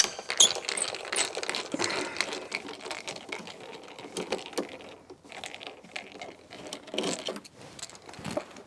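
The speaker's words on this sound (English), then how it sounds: "Get the right screwdriver for the bigger screws." A screwdriver works at screws in the interior of a Cessna Cardinal during headliner removal, giving faint, irregular clicks, taps and scrapes close by, with a few small metallic ticks and no talking.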